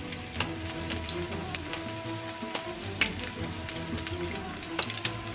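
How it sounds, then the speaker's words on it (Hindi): Peshawari chapli kebab fries in a pan of oil, giving a steady close sizzle dotted with small crackles and pops throughout, with no one speaking. "इतना ऑयल डालना है कि नीचे वाला हिस्सा ना का पैन कबाब का ऑयल में डूब जाए"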